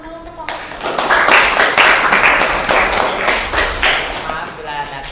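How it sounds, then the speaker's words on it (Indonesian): Classroom applause for a student group after a presentation: a burst of many hands clapping close by, building quickly and running a few seconds before tapering, with some voices mixed in. "Tepuk tangan dulu untuk kelompok."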